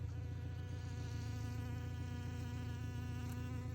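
Steady honeybee buzzing with a low droning hum among sunflowers, continuous and fairly close, with no voices.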